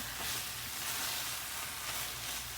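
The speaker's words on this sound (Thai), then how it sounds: "ทีนี้เราก็จะไปทำแคบหมูนะคะ เราก็จะไปทอดแคบหมูต่อนะคะ" Pork rinds fry in hot oil, giving a steady, close, dense sizzle and crackle that holds throughout with no talking.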